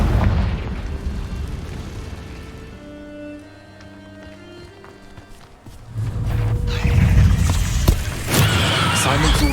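A Confringo fire spell goes off in Hogwarts Legacy, a loud fiery boom and crackling burst that swells late after a quieter stretch of soft tonal game music and ambience.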